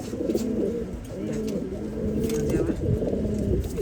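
Several fancy-breed pigeons coo continuously up close while feeding, overlapping low rolling calls forming a steady murmur.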